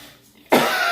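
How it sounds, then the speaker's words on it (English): A single sudden, harsh cough bursts out close by after a brief quiet moment. "I'm so sorry about the coughing"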